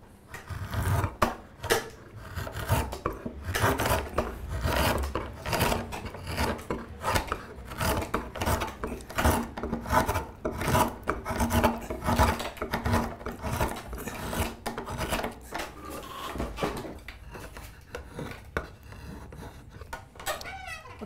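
A spokeshave works a seasoned elm chair crest in repeated rasping strokes, each a short scraping pass with brief gaps between, close and fairly loud, slowing and thinning toward the end.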